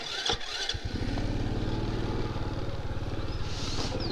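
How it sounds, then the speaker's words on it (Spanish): A small enduro motorcycle climbs a rough gravel creek bed in first gear, its engine droning loud and steady with a fast, even pulse. Brief clatter and knocks come at the start. "Bueno, esto se sube en primera,"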